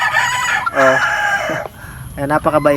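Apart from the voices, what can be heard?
yellow legged hatch rooster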